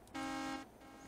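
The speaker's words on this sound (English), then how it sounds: "we honk the horns" A bus horn sounds in the video game DayZ, a single short, steady honk of about half a second, loud and alone against faint background noise.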